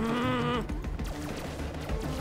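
Gunfire in a video game, a rapid burst of shots following a tonal game sound, close and loud with no talking.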